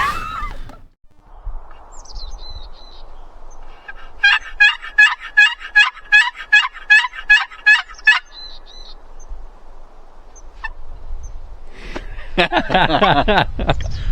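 A wild turkey gobbles in the distance during a Washington spring turkey hunt, a rapid rattling burst repeated about a dozen times, with faint bird calls and brief voices toward the end.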